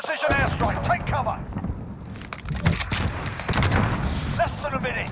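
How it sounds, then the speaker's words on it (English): Explosions from an enemy precision airstrike in a Call of Duty match: a dense stretch of booming blasts and gunfire-like bursts, loud throughout, with game voice callouts mixed in. "Enemy precision airstrike."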